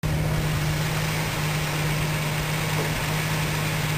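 An old red car's engine idles steadily at low RPM with a constant, even hum, close and alone, while a suspected alternator fault is being chased.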